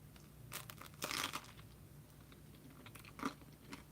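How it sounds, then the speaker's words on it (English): Close bites into thick, crispy homemade pizza crust, a few sharp crunches followed by quieter chewing, with one loud crackly crunch in the middle. "Listen to that crunch."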